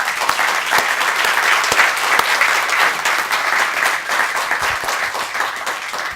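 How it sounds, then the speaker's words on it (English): Audience at a panel event giving a round of applause for the speakers, a full steady roar of many hands clapping at once, sustained throughout without pause. "Could you just join me with another round of applause for our speakers?"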